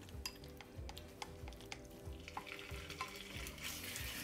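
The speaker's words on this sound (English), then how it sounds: "We'll start by frying our chicken first." Pieces of chicken fry in hot oil in a wok for chow mein, giving a steady close sizzle broken by scattered clinks and scrapes of a utensil against the pan.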